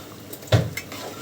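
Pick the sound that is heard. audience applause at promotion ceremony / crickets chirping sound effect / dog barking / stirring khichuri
stirring khichuri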